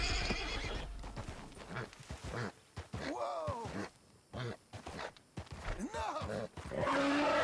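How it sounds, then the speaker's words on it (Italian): A Paint Horse in Red Dead Redemption 2 neighs and whinnies up close, several drawn-out cries mixed with snorts and grunts, separated by short pauses. "Abbiamo pure il Paint Horse"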